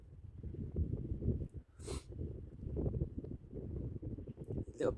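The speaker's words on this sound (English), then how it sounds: "A little bit of wind out here, a little bit chilly really" Gusty wind buffets the microphone on a seaside fishing pier in Lowestoft, a steady low rumble with a few sharp bursts and breaths close by.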